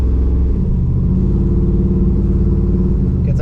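Misfiring LQ4 408 stroker V8 in a Trans Am, running on four cylinders with dead injectors, a loud, rough, uneven low rumble heard close up from inside the vibrating car, with no voices.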